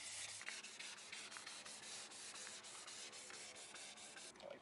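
Close, steady scrubbing of 400-grit sandpaper over a dented car body panel, a soft continuous rasp with quick repeated strokes, fairly quiet and alone.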